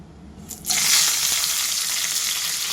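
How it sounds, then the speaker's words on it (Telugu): Ghee heating in a karahi pan for a village-style bitter gourd and coconut curry: after a brief quiet start, a bright, steady sizzle swells up and continues close by, with no one speaking. "నెయ్యి ఇలా కాగాలి."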